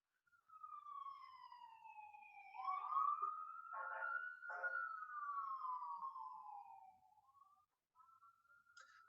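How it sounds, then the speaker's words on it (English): Emergency siren wailing in city streets, a single long rising and falling tone that swells loud and stays prominent for most of the stretch before fading near the end. "you might hear lots of sirens at certain points."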